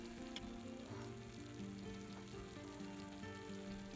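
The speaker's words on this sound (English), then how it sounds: "We want to cook the onions on a medium heat." Chopped onions frying over medium heat in butter and oil for a carrot pasta sauce, a steady close sizzle running the whole time beneath faint sustained background tones.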